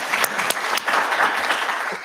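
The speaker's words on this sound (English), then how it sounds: "A big round of applause here" An audience at The Innovators' Spark 2021 applauds a volunteer, a full steady round of clapping with a few sharp, prominent claps close by, no talking over it.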